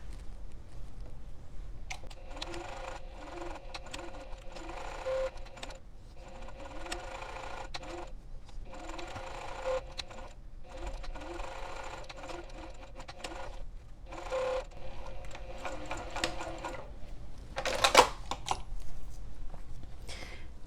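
A sewing machine stitches fabric for a portable foldable clothes hanger, running in steady mechanical bursts separated by brief stops over about twenty seconds, with no voices.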